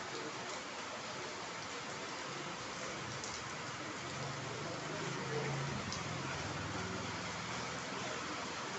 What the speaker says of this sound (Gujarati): અહીંયા વરસાદ ચાલુ થઈ ગયો છે